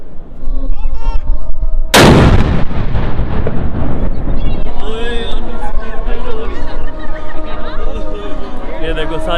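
A small gunpowder cannon loaded with only a powder charge and fired to break the fast goes off in one sudden, very loud close blast, followed by a long rumbling decay amid outdoor crowd noise and voices.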